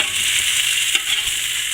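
Corned beef hash frying in a pan at a deer camp breakfast, a steady close sizzle with a couple of soft knocks as it is flipped, and no voices.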